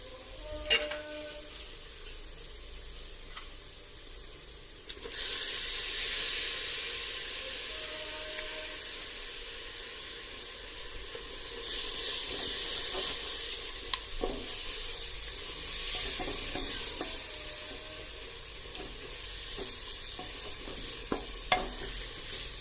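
Mutton sizzles and fries in oil with roasted ground spice powder for a mutton kulambu, with steady close frying hiss, scraping spoon strokes and occasional pan clinks, growing louder midway.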